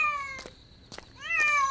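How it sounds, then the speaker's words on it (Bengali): A cat meows three times at night, plaintive crying calls rising and falling, close and fairly loud with quiet pauses between them. "আরে এত রাত্রে বিড়ালের কান্নার আওয়াজ কোথা থেকে আসছে?"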